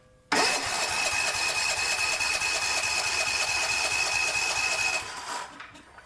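A used small portable generator engine, bought cheaply and started with the choke fully on, cranks over steadily and loudly for about five seconds with a continuous mechanical whir, then spins down and fades.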